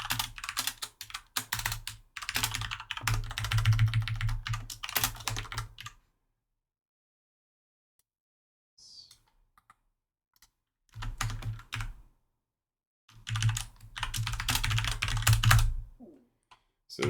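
Bursts of typing on a computer keyboard, rapid clattering keystrokes in two runs separated by a long silent pause, close and clear with no talk.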